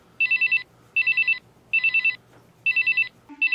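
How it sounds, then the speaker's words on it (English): A telephone rings in repeated short trilling bursts, four cycles evenly spaced and fairly loud, with no talk over them, in a quiet indoor scene. "Lincoln, are you going to answer that phone, Miss Lincoln?"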